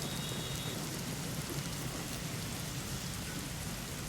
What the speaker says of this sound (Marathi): कल्याण डोंबिवली शहरासह आजूबाजूच्या परिसरात आज सकाळपासूनच पावसानं हजेरी लावली